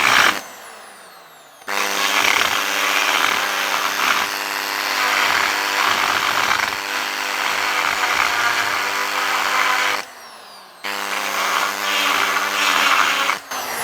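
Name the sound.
cutter cutting a turbo boost pipe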